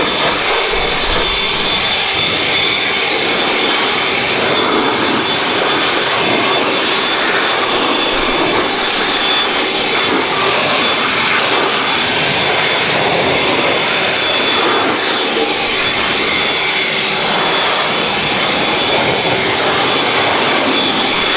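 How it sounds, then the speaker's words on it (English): Ego cordless leaf blower fitted with a short stubby nozzle, blasting water out of a wet C8 Corvette engine bay; a steady, loud, continuous rushing whoosh of air that holds without pause throughout. "I'm going to go ahead and use my Ego leaf blower here with my short stubby nozzle"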